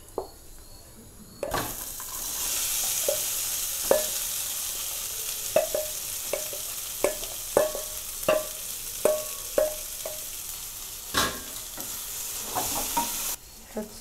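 Dal is tossed into hot oil and ghee seasoned with asafoetida for kachori filling, giving a loud, steady sizzle punctuated by repeated sharp scrapes and taps of a spoon stirring in the pan, with no talking.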